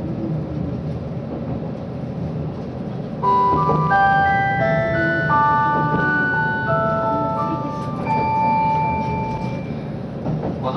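On board the SL Banetsu Monogatari steam train, the Heykens' Serenade announcement chime plays a bright melodic run of clear tones over a loud, steady carriage rumble.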